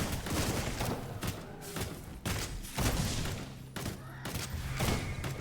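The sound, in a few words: shotgun firing in the video game Shape of Dreams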